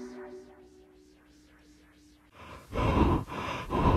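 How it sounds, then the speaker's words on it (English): Heavy breathing close to the microphone, slow and faint at first, then several loud, rough breaths in a steady rhythm. "Please stop breathing in my ears, it's creepy."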